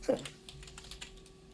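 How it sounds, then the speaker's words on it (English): Soft, quick computer-keyboard typing during a podcast recording: scattered light key clicks over a low steady hum, fairly faint and close, with no talking. "if you can hear me typing, then that's fine"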